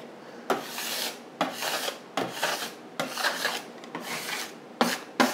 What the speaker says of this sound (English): Is another great tool, bench scraper.